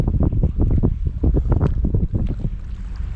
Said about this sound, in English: Might be windy on camera.